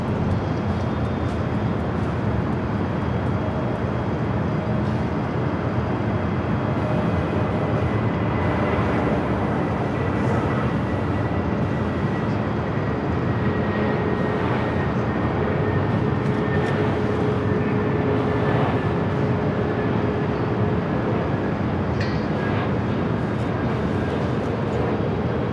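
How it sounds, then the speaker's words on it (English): A Frontier Airbus A320neo airliner arrives at Los Angeles International Airport, a steady broad roar of jet engines that holds for the whole stretch with a faint whine above it, loud and sustained, with no talk. "let's head to the Frontier A320neo"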